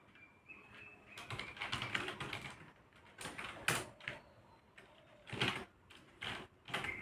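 A paragraph is typed in Notepad on a computer keyboard. Quiet, irregular clusters of key clicks and taps fall close by, with short gaps between bursts.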